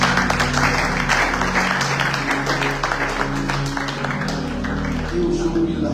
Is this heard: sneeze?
no